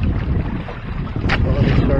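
Steady wind rushes over a sailing trimaran on Lake Erie, a constant low roar against the microphone with faint water and rigging sounds mixed in.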